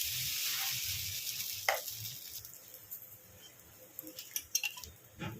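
Oil sizzles faintly in a pan while jowar dosa is being made, a soft hiss with light crackles and a few sharper clicks of utensils, quiet and close.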